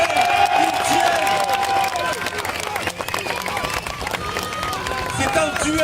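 A crowd cheers and applauds two béhourd combatants at a medieval armoured fighting event in Normandy, a continuous loud wash of clapping and voices with a commentator talking over it throughout.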